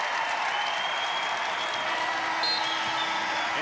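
An arena crowd at a college wrestling dual meet between Virginia and NC State applauds and cheers steadily, a broad continuous roar of clapping with a brief whistle or shout rising near the end.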